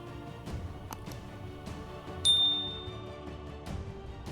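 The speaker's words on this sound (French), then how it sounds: "activez la cloche de notification" Bright notification bell ding rings once, sharp and clear, over a steady musical backing, its tone lingering and fading briefly.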